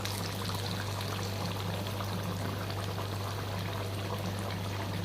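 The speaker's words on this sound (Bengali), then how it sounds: "এবার এতে জল দিয়ে দেবো।" Water poured into a pot of chicken curry, a steady, dense rushing stream that runs loud and unbroken throughout, with a low constant hum beneath it.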